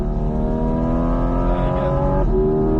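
A Porsche Cayman 718 GT4 RS on the Mas du Clos race circuit, its engine loud and close with a steady harmonic drone that climbs in pitch as it accelerates, then shifts near the end.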